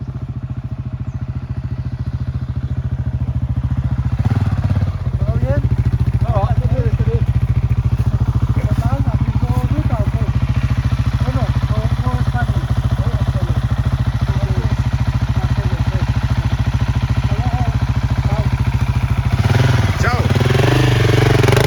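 A 700cc off-road motorcycle engine runs steadily and loud throughout, with a brief throttle blip near the start and another near the end, while people talk over it on a desert trail trip.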